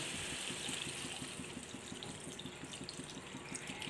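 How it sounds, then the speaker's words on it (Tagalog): Water pours into a pot in a steady, quiet stream with a soft rushing hiss that continues evenly throughout, and no voices are heard. "Lalagyan na natin siya ng tubig."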